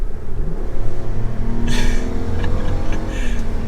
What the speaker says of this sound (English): That is a lot of weight to be accelerating that quickly.